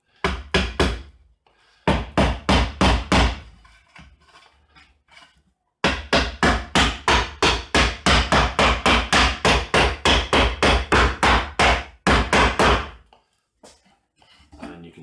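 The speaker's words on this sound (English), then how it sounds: "Hammer it all nicely tight together." Rapid bursts of hammer blows on wood as the joints of a wooden National beehive box are knocked together, several quick series of sharp knocks separated by brief pauses.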